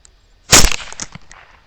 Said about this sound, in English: the last two shots are to finally make sure he's dead